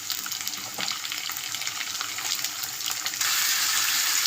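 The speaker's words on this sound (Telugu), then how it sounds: "చూసారా ఇలా వేగాయి కదా, ఇప్పుడు అరటికాయ ముక్కలు వేసుకుందాం." Chana dal and raw plantain pieces sizzle in a pan, a steady bright hiss of frying that grows slightly louder near the end, close up with no voices.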